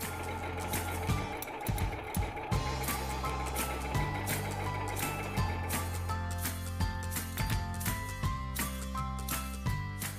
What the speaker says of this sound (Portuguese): aperte a tecla Start Stop para começar a costurar